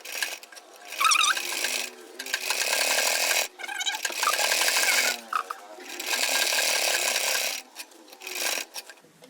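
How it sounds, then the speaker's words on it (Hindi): A sewing machine stitches a flat collar for a kurti or blouse in repeated close bursts of rapid whirring, broken by short pauses and faint handling of the fabric. "यहाँ ऊपर की तरफ से भी सिलाई लगा देते हैं"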